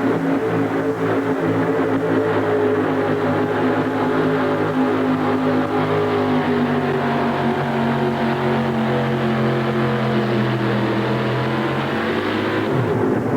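GMC-powered drag racing car at full throttle on the strip, a loud, continuous, close engine roar with rising and falling harmonics that holds for over ten seconds before dropping in pitch near the end.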